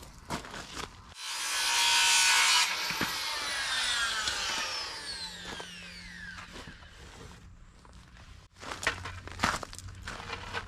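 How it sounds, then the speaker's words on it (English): Power saw cutting an angled end on a wooden trim board for a modern shed, a loud whining burst that spins down over several seconds, followed by a few clattering handling knocks. "Now I just have to be sure and cut so that the top, which is the back of the trim, is the short side"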